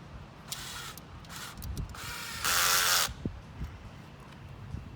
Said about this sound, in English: Then I'm going to replace the bolt and tighten the frame of the base back